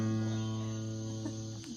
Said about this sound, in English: listen to the critters. Tell me, those tree frogs or cicadas?